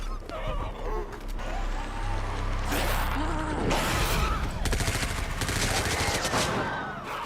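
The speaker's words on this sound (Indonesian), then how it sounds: "beberapa tembakan mulai dikeluarkan untuk membunuh dokter yang jadi zombie itu." Gunshots fired at a doctor turned zombie in a zombie outbreak movie scene, a loud dense burst of gunfire and clatter mixed with rumbling action noise and panicked commotion throughout.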